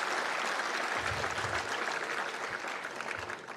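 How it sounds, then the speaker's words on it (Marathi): An audience at a motivational talk bursts into loud, dense clapping that fades gradually over a few seconds, with no voices over it. "एकदा जोरदार टाळ्या होऊन जाऊ देत."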